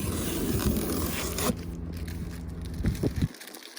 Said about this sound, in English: Satisfying. Peeling action.